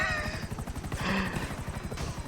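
A weaponised helicopter in GTA V auto-rotates as it descends. Rotor blades thump in a steady, rapid rhythm over a whining engine tone, with faint game sounds mixed in.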